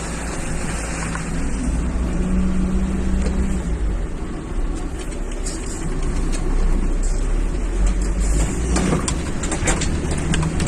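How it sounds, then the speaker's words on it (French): A passing car on a road walked with dogs gives a loud, steady rushing roar that lasts throughout with small swells, with no voices over it. "je croise une voiture, ça craint."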